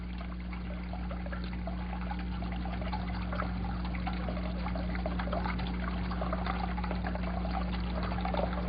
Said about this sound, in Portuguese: Quando a água é liberada aos poucos do recipiente